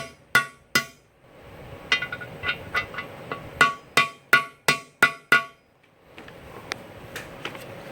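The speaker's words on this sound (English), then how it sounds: "So what I'm going to do is just use a socket, drive against my seal" A socket drives an axle seal into a Dana 20 transfer case during a 1966 Ford Bronco rebuild, giving a run of sharp metallic hammer taps, some single and some in quick clusters, close and loud with short pauses between.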